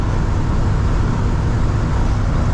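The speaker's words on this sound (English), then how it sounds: "And you're gonna get some wind noise." Steady, loud low-pitched roar of wind and road noise inside a moving 1979 Ford F-150 pickup truck, constant throughout with no breaks.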